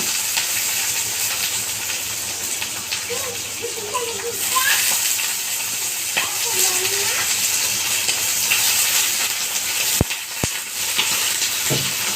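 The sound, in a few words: eggplant and potatoes frying in pan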